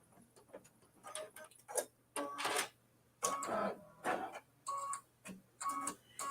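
An embroidery machine stitching a strawberries quilt block gives off rapid bursts of mechanical ticking and clicking, with a sharp snip as it trims a jump thread, close and fairly quiet with short pauses between bursts.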